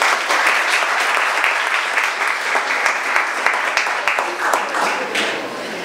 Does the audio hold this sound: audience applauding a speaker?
yes